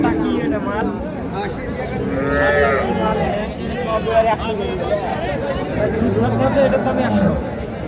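At a rural cattle market (haat) selling local-breed dairy cows with calves, a cow lets out a long, nearby moo amid steady crowd chatter and people talking.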